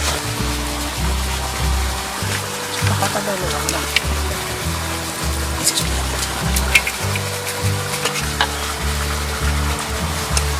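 Ghee sizzling and crackling in a large cooking pan while fried rice is made for fifty children, a steady hiss of spitting fat under a low rumbling burner and a speaking voice.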